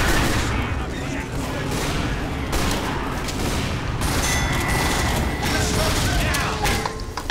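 Constant dense gunfire and combat noise from a Team Fortress 2 match, loud and continuous throughout, with a voice talking over it at times.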